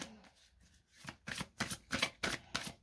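Playing cards being shuffled to draw a third card, a brief soft shuffle followed by a quick run of crisp, rhythmic riffling bursts, close and clear with no speech.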